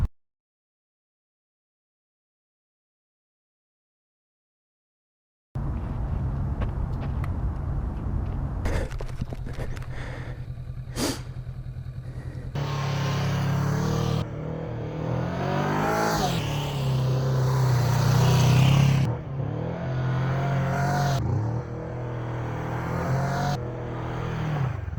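A Kawasaki Vulcan S motorcycle engine runs close by while riding, rising and falling as it accelerates and revs through the gears, with steady rushing noise after a silent opening.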